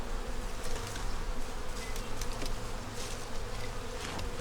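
Honeybees buzz around kept hives in a cold season, a steady droning hum with individual insects passing close now and then.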